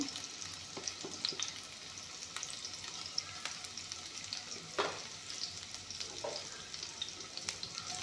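Onions frying with panch phoron spices hiss in a soft, even sizzle, broken by occasional scraping stirs of a utensil in the pan.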